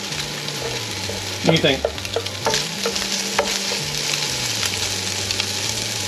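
Spam browns in a hot pan with a steady crackling sizzle, broken by brief scraping stirs and clinks; a voice speaks briefly over the cooking.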